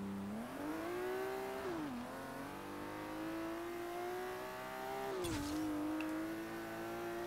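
A BMW M car engine in Forza Horizon 3 revs steadily under acceleration, its tone climbing, dipping briefly at gear changes around two and five seconds, then rising again, loud and continuous with no talk.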